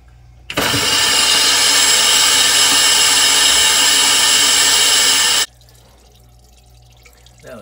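Compressed air blasts through the plugged drain line of an ice machine, a loud steady hissing rush lasting about five seconds that cuts off abruptly, leaving a faint mechanical hum.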